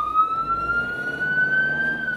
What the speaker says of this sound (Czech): Sanitka Jihočeské záchranné služby vyjíždí nově ze stanoviště ve Lhenicích.